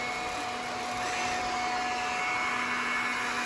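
An iRobot Scooba mopping robot with a bristled cleaning bar runs steadily, giving off a loud, constant motor whine and hum with a sustained tonal pitch throughout, close by and with no voices.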